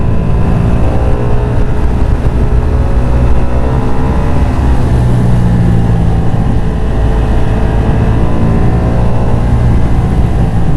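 A Ducati Streetfighter V2 motorcycle engine drones loud and close from the rider's position, a throaty, steady low rumble holding a fairly constant pace throughout with no talk.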